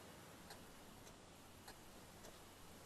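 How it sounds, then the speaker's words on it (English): An alarm clock in the Hello Neighbor game ticks quietly at a steady pace of roughly two ticks per second over a faint background hiss. "We've got, like, an alarm clock here."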